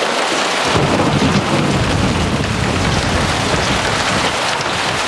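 A violent thunderstorm: a deep, continuous roll of loud thunder blends with heavy rain pounding surfaces. The dense, unbroken roar is close and alone, with no voices.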